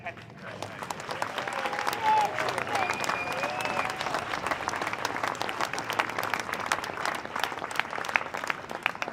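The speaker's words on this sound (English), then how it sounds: "Let's just have a round for the competitors." A crowd at a prep school athletics sports day claps steadily for the competitors, a moderate round of applause that holds throughout, with faint voices underneath.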